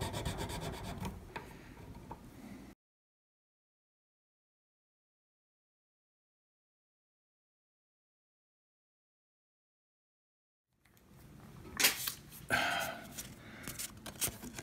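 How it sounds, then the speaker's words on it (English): Bone nut for a Stratocaster guitar rubbed on 600-grit sandpaper, with raspy back-and-forth scraping in two stretches separated by a long silent gap, and louder, sharper strokes in the second stretch. "600 sandpaper"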